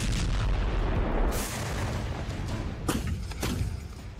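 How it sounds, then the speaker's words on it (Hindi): Tank guns firing shells in Russia-Ukraine war footage, several loud heavy booms spaced a second or so apart, each with a rumbling tail, no voices. "पहले टैंक से गोले दागे"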